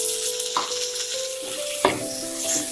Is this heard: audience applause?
no